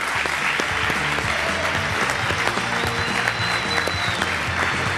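An audience applauds a band during a live interview event, loud, sustained clapping from a nearby crowd with faint voices mixed in.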